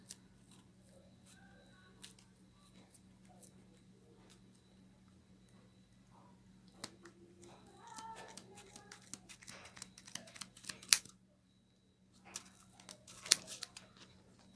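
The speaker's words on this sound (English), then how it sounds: "So you continue cutting until you get to the other side" Quiet, intermittent snipping and crisp cutting sounds of scissors cutting yarn on a pompom maker, close up, growing busier toward the end with brief pauses in between; no talking.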